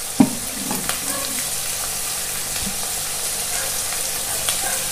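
Pieces of duck meat fry with turmeric powder in a pan, giving a steady close sizzle with a sharp stirring clink near the start.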